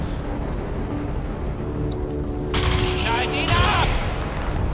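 Bursts of gunfire in the shooter Crysis 3 come as rapid, crackling volleys that get louder in the second half, with a voice talking over them.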